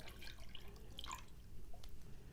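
Water is poured into a bowl of chicken liver and vinegar, making faint dripping and splashing with a light trickle, and nobody speaks.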